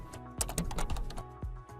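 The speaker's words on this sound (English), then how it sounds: "You just select that text and then start typing anything you want." Typing on a computer keyboard, a close burst of quick, uneven key taps with a couple of heavier strikes, no talk over them.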